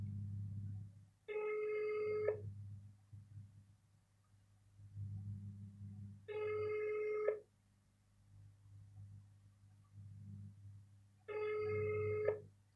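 Ringback tone of an outgoing phone call to a Vietnamese number: three long steady ring bursts about five seconds apart, clear and fairly loud over a low background rumble, with no talking.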